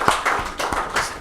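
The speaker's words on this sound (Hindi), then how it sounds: "तो एक बार जोरदार ताली हो जाए।" A few people at an indoor felicitation event clap in loose, uneven bursts, sounding fairly close and sparse rather than like a full roaring crowd.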